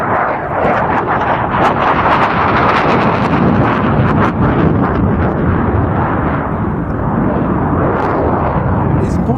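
A Polish MiG-29 fighter jet roars through display maneuvers at an air show, a loud, continuous, wind-buffeted engine rumble with surging swells that never lets up.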